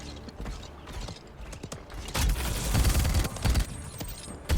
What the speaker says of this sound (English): I hear the horse.